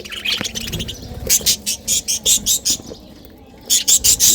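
Birds feeding below a colony building chirp in a steady run of short, bright, evenly spaced calls, with a brief pause before the chirping resumes, fairly close and clear.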